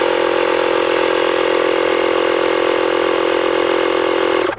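A pump inflating a bicycle inner tube for a puncture repair, heard up close as a loud, steady mechanical drone with a fast regular pulsing that runs unbroken before cutting off at the end.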